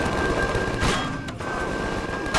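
In the space game Empyrion, enemy machine guns and shotguns keep up a dense, loud barrage of gunfire that fills the whole stretch, with a couple of sharper blasts standing out.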